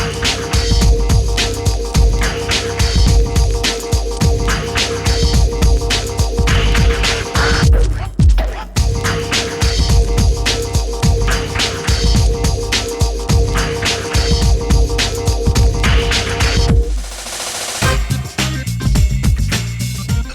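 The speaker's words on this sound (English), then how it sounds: "we're going to be putting the car on the dyno and we're going to be tuning it there" A Toyota Vios runs hard on a dyno during Unichip tuning, giving a loud, steady, throbbing engine drone that cuts out briefly twice before resuming.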